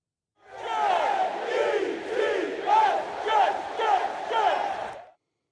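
A packed NFL stadium crowd on Monday Night Football, Jets versus Bills, roars at full volume, a dense sustained wall of cheering and yelling with rising surges and whoops lasting about five seconds before cutting off.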